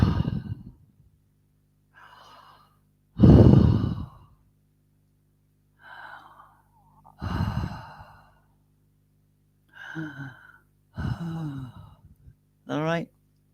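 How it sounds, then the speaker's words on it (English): A person breathes heavily into a microphone on request, with a series of separate loud, deep breaths and sighs broken by pauses of near silence, very close and intimate. "do you want me to do some heavy breathing"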